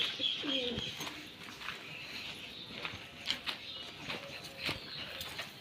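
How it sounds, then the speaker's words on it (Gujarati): Soft pigeon coos and faint bird calls, with light fluttering and tapping sounds, recorded fairly close in a quiet outdoor setting. "આપણા બધા કબૂતર બહાર નીકળી ગયા છે."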